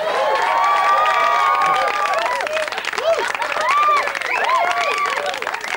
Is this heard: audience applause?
yes